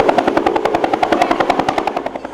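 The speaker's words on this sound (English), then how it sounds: "The sounds of a helicopter rescuing neighbors" Rapid, steady rotor thumping of a rescue helicopter over the flooded Susquehanna River, loud and close, with a constant engine whine beneath the chopping beats.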